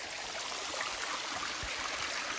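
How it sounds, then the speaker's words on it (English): A small creek runs near a waterfall, its steady babbling, trickling water close by and continuous, with a faint low gurgle now and then. "And there's this little stream."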